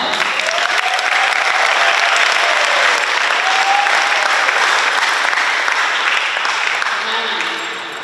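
An audience applauds Honorable Perman at a Pohnpei student takeover day event, loud continuous clapping filling the room at even strength before tapering slightly at the end, with faint voices mixed in.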